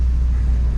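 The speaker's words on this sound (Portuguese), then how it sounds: "Um Gol GTS, quando você acelera e tem esse segundo estágio, é fantástico, cara." Engine of a 1990 VW Gol GTS under acceleration on the carburetor's second stage, a steady deep low rumble held close and loud with no break.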